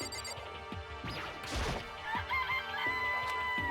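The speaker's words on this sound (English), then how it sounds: "They're just regular chickens, right?" Chickens in the Danganronpa video game cluck and crow amid a sharp crash, with scattered short calls and knocks over a faint game background, no speech.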